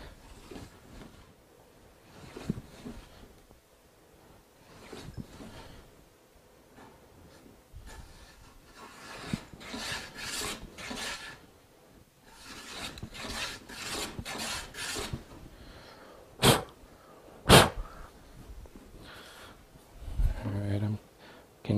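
A WoodRiver hand plane is pushed along a wooden board, its blade just starting to take a thin shaving. Repeated soft rasping strokes build to a few louder scrapes, with a voice speaking at times.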